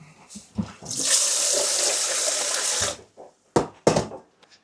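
A kitchen tap runs steadily for about two seconds while rice is rinsed, a loud continuous hiss of water, followed by a few short clattering knocks and splashes from the sink.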